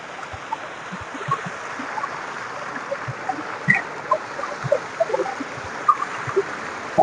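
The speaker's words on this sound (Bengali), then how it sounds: "ঝর্ণার পানিটাও অসাধারণ।" A waterfall stream in Bandarban, Bangladesh, heard as a steady close wash of flowing water with small scattered splashes and knocks, and no one speaking.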